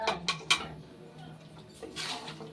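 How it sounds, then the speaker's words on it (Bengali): Boiled peas tipped into a pan of potatoes for motor ghugni, giving a few sharp clinks and knocks of utensil on metal in the first half-second, then softer scraping and rustling, close and fairly quiet. "এবার এর মধ্যে দিয়ে দেবো সেদ্ধ করা মটর।"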